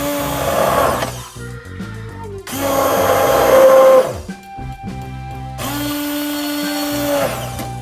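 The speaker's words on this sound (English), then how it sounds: "we just tap it on the blender, but it's a little bit noisy" A blender whirs loudly in three bursts while blending spinach, each running a second or two, with short pauses between.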